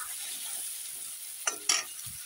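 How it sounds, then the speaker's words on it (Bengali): Eggplant frying lightly in oil with turmeric and salt, a soft steady sizzle with two sharp scraping stirs of a spatula against the pan partway through. "হলুদ লবণ দিয়ে এখন বেগুনটা আমি হালকা ভেজে উঠিয়ে নেব"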